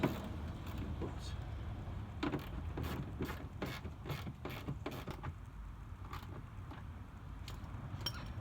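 Fasteners on the rear fender liner of a 2021 to 2024 Ford F-150 are tightened with a ratcheting tool, a busy run of close, rapid mechanical clicks and creaks over low background rumble.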